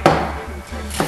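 Close, loud knife chops on a cutting board as freshly risen bread dough is cut into pieces, a few firm strokes with short pauses between them and no speech.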